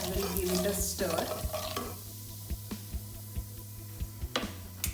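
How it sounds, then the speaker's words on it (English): A spoon stirring turmeric powder and chili powder through hot oil in a pan for vada pav potato masala, with a soft sizzle under a series of regular scraping knocks, loud at first and then settling into a steady rhythm. "half a tablespoon of turmeric powder, I will give it a stir"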